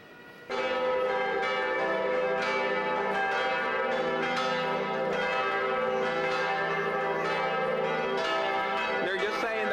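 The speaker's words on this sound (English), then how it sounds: "The bells are just saying we came out of the church." Church bells ring out in Florence, Italy, loud and close, a dense layered peal of repeated strokes sounding continuously for nearly ten seconds after an abrupt start.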